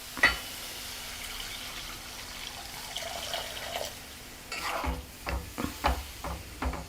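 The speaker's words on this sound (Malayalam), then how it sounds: "ഇനി നമുക്കിതിലേക്ക് കുറച്ച് തേങ്ങാപ്പാൽ ചേർക്കാം" Coconut milk poured into a simmering Kerala-style egg roast curry makes a faint liquid trickle and bubbling, followed by several louder spoon stirs and clinks near the end.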